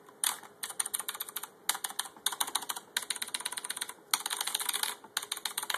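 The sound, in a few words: typing on Razer BlackWidow mechanical keyboard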